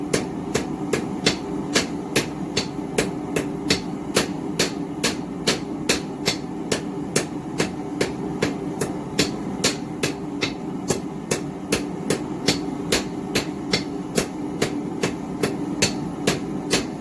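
Metal is hammered flat on an anvil for a DIY blacksmith cabinet handle. The clear, sharp blows ring out at a steady, even rhythm, about two per second, over a low background hum.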